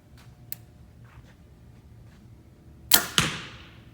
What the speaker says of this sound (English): It's a very quiet bow and dead in the hand. A little tiny jump at the shot